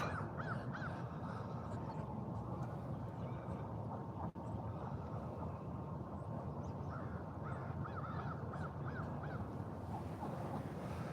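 Crows caw in a short series over a steady outdoor background rumble, the calls moderately distant and repeated through the clip.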